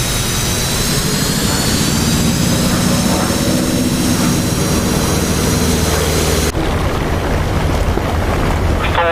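A loud, steady aircraft engine roar from the DCS World flight game, a continuous droning rumble with whining high tones, close and unbroken, dropping in brightness abruptly near the end.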